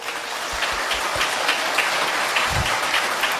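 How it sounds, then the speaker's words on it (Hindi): Sustained applause from a crowd at a spiritual gathering, many hands clapping evenly throughout with a few louder nearby claps and thumps. "आनंद आया तो ताली बजाइए।"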